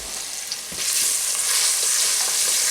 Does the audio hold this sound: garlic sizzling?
yes